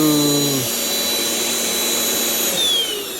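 A Deerma VC20 Plus handheld wireless vacuum runs in turbo mode, a loud close high-pitched whine that shifts pitch early on, then holds steady before tailing off at the end.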